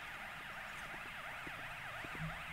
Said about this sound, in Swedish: Nu kommer ju dock de med sirener